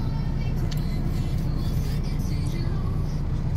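Sand trucks rumble past at a fracking well site in Midland, West Texas, a loud, steady engine drone with no break throughout.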